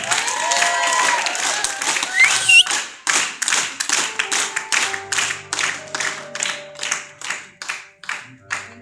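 Steady rhythmic clapping from an audience at a women's spring holiday celebration, beating in time, with a few sustained tonal musical notes and some brief vocal sounds at the start.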